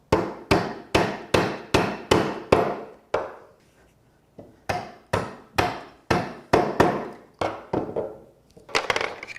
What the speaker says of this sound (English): take the chisel, stick it in the scribe line, and I'm actually going to tilt the chisel forward about 1 degree or 2 and then remove the waste